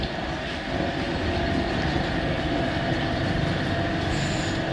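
A Mumbai local train pulls into a station platform, a sustained broadband roar and rumble of wheels and carriages with a faint high squeal near the end, steady and fairly close.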